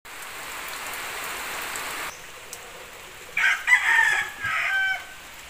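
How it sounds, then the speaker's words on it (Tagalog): Steady rain falls on a surface for about two seconds, then fades to quieter drizzle as a rooster crows nearby in a few strained, uneven bursts. "Thank you Lord, umulan din."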